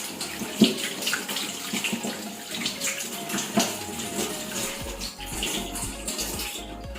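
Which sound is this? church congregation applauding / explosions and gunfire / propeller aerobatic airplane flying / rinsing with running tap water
rinsing with running tap water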